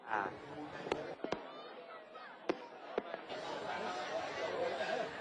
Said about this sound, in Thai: สำหรับฝั่งสปปลาวนะครับก็มีการจุดพลุเรื่อยๆตั้งแต่ช่วงเย็นที่ผ่านมา